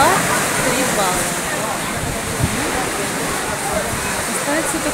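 Sea waves at a beach in Gaspra, Crimea, with a moderate swell, make a loud, steady roar of surf and churning water that fills the whole stretch without a break.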